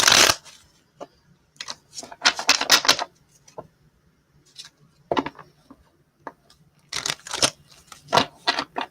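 Tarot cards riffle and snap through repeated shuffles in close, crisp bursts separated by short pauses, with no talking.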